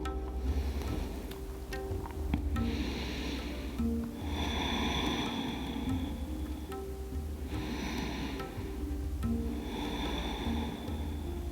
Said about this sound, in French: On y va à la posture de l'enfant. Trois dernières respirations ici.